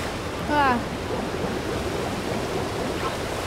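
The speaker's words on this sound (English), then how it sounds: "Okay, the waterfall pushes you down." A waterfall in the Cascade Kingdom of the video game Super Mario Odyssey gives a steady, even rushing roar throughout, broken early by a short rising voice-like chirp from the game.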